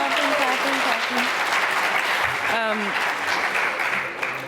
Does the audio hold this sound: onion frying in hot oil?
no